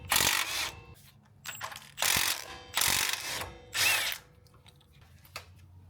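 A ratchet loosens 17mm brake caliper bolts on a Lexus GX460, with four quick, loud bursts of clicking separated by short pauses and faint metallic handling noises.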